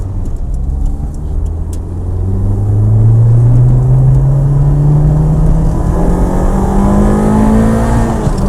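A Renault 5 with a 2.0 engine, warmed to operating temperature, revs loud and close, its engine note climbing steadily for several seconds and holding a strong rumbling drone.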